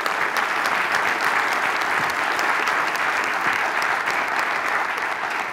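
An audience at a medical school address claps in sustained, dense applause that stays loud and even throughout, with no talking over it.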